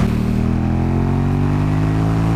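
A KTM Super Duke motorcycle pulls hard under acceleration in cold weather, its loud engine roar rising steadily in pitch, close and continuous with no talk.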